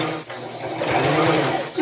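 A sewing machine stitches straight up and down through stiff felt fabric, its motor whirring in a close, continuous rattle that rises slightly in pitch partway through.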